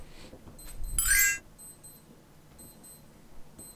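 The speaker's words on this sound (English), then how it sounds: "Oh, and there goes my buzzer" A wristwatch alarm buzzer goes off with a short, bright burst of rapid electronic beeping, followed by faint repeated chirps in a quiet room.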